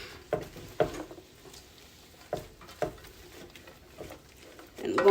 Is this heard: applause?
no